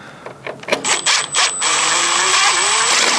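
A power drill whirs in short bursts while backing screws out of a patio door lock bar, then runs in a sustained, rising whine, close and fairly loud with faint clicks between spurts.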